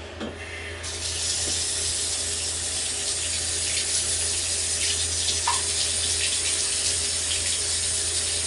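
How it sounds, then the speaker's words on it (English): A tap turns on and water runs steadily into a sink for hand washing. A short clunk and splash open it, then a continuous close, even rushing flow follows with a faint clink partway through, and no talk. "And Maleah is going to wash her hands."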